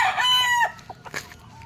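Young Machine Kelso game fowl stag, about four to five months old, gives a short, sharp, strained crow-like call followed by a few soft clucks, close and clear in a backyard.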